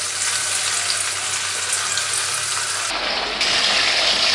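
Chicken 65 pieces deep-frying in hot oil, a loud continuous hiss and bubbling that surges even louder toward the end, with no talk.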